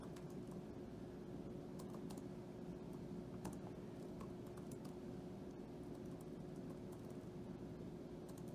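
Someone types a prompt on a computer keyboard, producing faint, scattered key clicks over a steady low hum and background noise, quiet and without talk.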